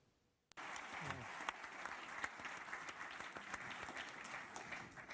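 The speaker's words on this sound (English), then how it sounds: "I'm sure that applause will be heard beyond the pealing of the bells of Notre Dame" Applause erupts for a French finance minister after a speech, a sudden onset of dense, sustained clapping from a large audience that holds steady and loud for several seconds.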